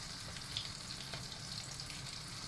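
Oil fries in a pan during home cooking of a creamy chicken roll, a steady close hiss and crackle with faint bubbling that holds an even level throughout, with no talking.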